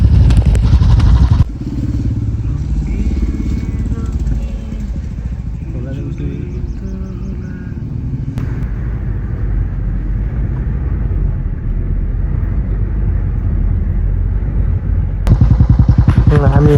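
A motorcycle rides on a snowy mountain road on the way to Mahabu, Dailekh, its engine a loud, steady drone heard up close throughout, with rattling and wind noise and occasional talk over it.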